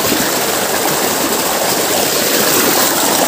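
Water rushes steadily down a forest stream fed by a waterfall, a loud, continuous broadband wash with no break, close by.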